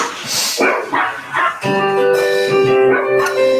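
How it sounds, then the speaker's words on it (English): A spaniel barks and yips in short bursts, close by, with a steady tonal hum running underneath through the second half. "Who's barking?"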